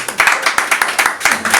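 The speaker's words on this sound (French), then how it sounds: "Nous pouvons l'applaudir." An audience at a ceremony honouring a musician applauds with clear, rhythmic clapping, close and fairly loud, in short regular bursts.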